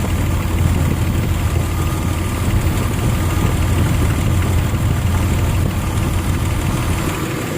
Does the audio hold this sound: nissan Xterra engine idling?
yes